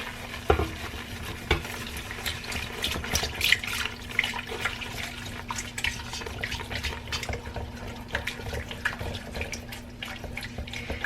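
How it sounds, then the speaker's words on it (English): A spoon stirring steadily in a pot while milk is added a little at a time to make a smooth sauce, giving a continuous wet scraping and clinking with a constant low hum beneath it and no talking. "So I'm going to go ahead and start adding in the milk."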